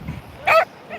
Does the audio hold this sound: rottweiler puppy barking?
yes